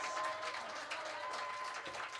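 Audience at a live music show claps, a fairly faint, even patter of many hands, with a steady hum lingering beneath.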